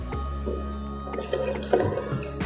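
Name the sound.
pouring juice into pineapple in blender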